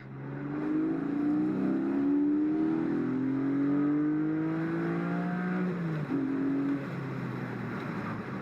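Porsche 718 Boxster GTS 4.0 engine revving hard under acceleration, pitch climbing steadily through a long pull before a brief dip and another rise, heard close from inside the car.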